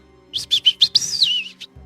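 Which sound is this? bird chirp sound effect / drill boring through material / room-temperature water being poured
bird chirp sound effect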